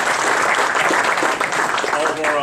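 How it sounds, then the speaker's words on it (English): Diners at a Fordham football alumni golf outing dinner give a brisk round of applause, dense steady clapping filling the room with voices mixed in. "so let's give them a quick round of applause."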